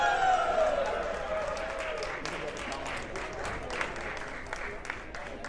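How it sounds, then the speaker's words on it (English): Audience applause at a prize raffle on a cruise ship, a steady wash of clapping that holds through the whole stretch, with voices and a brief tonal sound at the start. "Applause, please."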